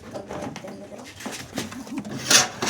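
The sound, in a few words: pigeon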